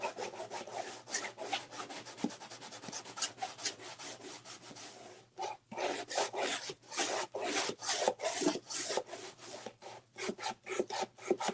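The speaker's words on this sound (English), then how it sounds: "take my little gator sander. Just nice and light over the top." A small gator sander moves lightly over a painted wooden sign, giving a steady rasping rub with rapid strokes; it pauses briefly midway, then resumes in short bursts, close and alone.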